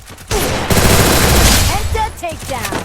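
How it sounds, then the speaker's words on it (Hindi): MP40 submachine gun fire in the Free Fire mobile game: loud, rapid automatic bursts with a short pause between them and brief game effects near the end. "काफ़ी हद तक अच्छी चल रही है दोस्तों ये गन"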